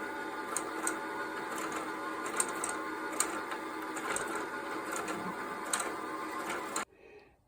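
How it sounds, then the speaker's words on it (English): A sewing machine winds its bobbin with a steady, fast mechanical whir and faint periodic clicks, running alone for several seconds before stopping abruptly. "to just go ahead and fill that bobbin"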